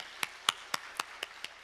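Sharp isolated claps from a church congregation, about six distinct strikes spaced roughly a quarter second apart, faint and thin rather than a full applause wash, with no talk over them.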